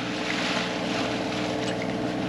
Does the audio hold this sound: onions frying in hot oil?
no